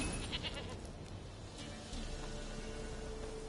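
Stubborn goat in The Witcher 3 giving a couple of faint bleats early on, then a continuous hissy game ambience with soft music underneath.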